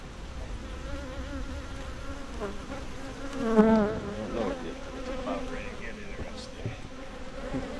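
Honey bees buzz steadily around an open hive during a mid-July inspection, a continuous insect drone with a brief louder swell of nearby bees partway through.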